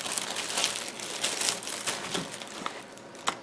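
A thin BPA-free plastic bag from a dollar store is handled and crumpled up close, giving irregular crinkling bursts and sharp rustles with no talking.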